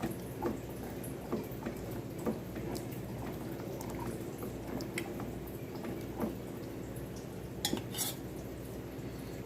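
Metal utensil scraping and clinking against a pot of simmering Nagercoil-style lima bean and chickpea theeyal curry amid a bubbling background, with occasional sharper clanks.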